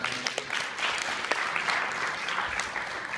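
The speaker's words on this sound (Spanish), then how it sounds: "un aplauso fuerte para él" A church or lecture audience at a talk on postmodernism applauds, an even, moderately quiet patter of many hands with a few sharper claps, lasting about three seconds and carrying no speech.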